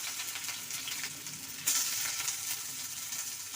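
Onions sizzling and frying in hot oil in a pan while cooking Assamese fish head curry, a steady loud crackling hiss that swells briefly as they hit the oil, with no talking.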